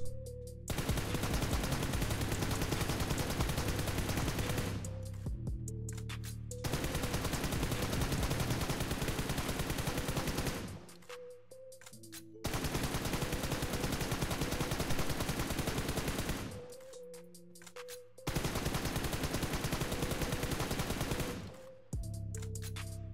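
Automatic gunfire at a target in the mobile game PUBG Mobile: four long sustained bursts of rapid, loud shots, each lasting several seconds, separated by short pauses, with no talk.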